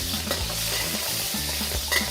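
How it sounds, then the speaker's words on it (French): Shrimp frying in oil for pad thai, a loud continuous sizzle with stirring scrapes and a brief metallic clink near the end, no speech. "Versez un peu d'huile et faites frire les crevettes"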